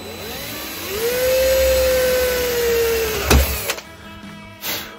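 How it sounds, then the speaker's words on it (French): Hand drill boring a 4 mm blind hole in aluminium, its motor whine rising to a steady high pitch for about two seconds, then stopping with a sharp clack, followed by faint handling clicks. "Et donc on prend une mèche de 4 pour faire le trou de 4."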